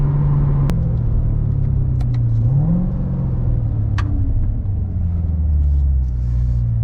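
A Corvette Z06 accelerates onto a highway, a deep close engine rumble that rises and falls with throttle and gear changes, heard from inside the car with a few faint clicks and knocks.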